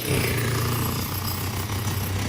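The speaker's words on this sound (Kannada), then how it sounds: "ಇಲ್ಲಿ ಮ್ಯಾಲಿನ ಕನ್ಸ್ಟ್ರಕ್ಷನ್ ಸ್ಟಾರ್ಟ್ ಆಗ್ತದೆ" A jackhammer breaks concrete during construction work upstairs in a home, a loud, continuous, dense rattling roar that fills the whole moment.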